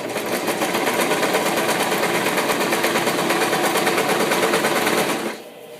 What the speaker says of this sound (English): Back stitch so that it locks the stitch in place. Pull the elastic nice and tight.